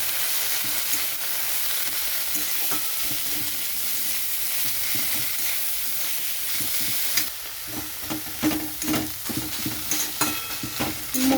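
Banana flower fries in a pan with salt and Kashmiri chilli powder for Bengali mochar chop, a steady hissing sizzle that turns into choppy stirring and scraping in the second half.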